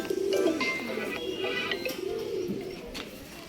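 Pigeons coo repeatedly in a low, rolling rhythm, several birds close by with overlapping calls and faint chirps, at a home loft in Bangalore.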